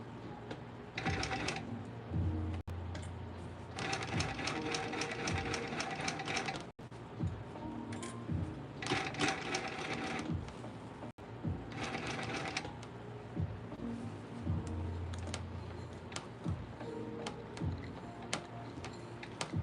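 A hand-cranked walking foot sewing machine stitches through a bag in bursts of rapid mechanical ticking and clacking, with short pauses between runs of stitches, close and fairly quiet.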